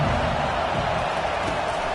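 At a football game, a stadium crowd keeps up a dense, steady roar of cheering and noise, loud and unbroken throughout.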